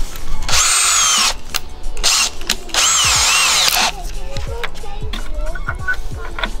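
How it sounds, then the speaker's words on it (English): A power drill bores into a fiberglass side skirt for a 2015+ Subaru WRX/STI, whining loudly in two bursts with short gaps, followed by quieter clicks, handling clatter and faint talk. "It makes drilling a whole lot easier when you're working with fiberglass"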